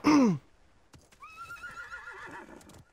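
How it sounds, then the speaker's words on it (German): A loud horse whinny bursts out at the start, followed by fainter, wavering neighs and a few soft thumps, from horses in a video game. "Da sind die Pferde."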